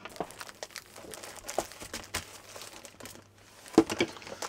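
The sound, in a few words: heavy duty vinyl fabric being handled and crinkled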